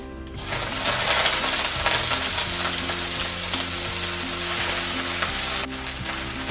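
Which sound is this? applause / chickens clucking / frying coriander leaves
frying coriander leaves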